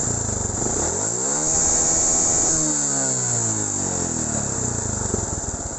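Motorcycle fitted with a programmable CDI ignition revving, rising and falling in pitch as the throttle opens and closes, loud and close, with a constant high whine above.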